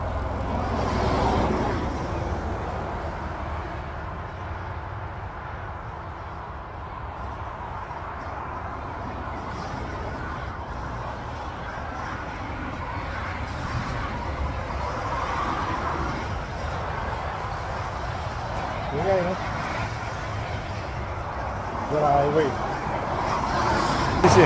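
Steady roar of fast traffic on a highway in Canada, vehicles rushing past continuously with occasional louder swells, while someone talks nearby.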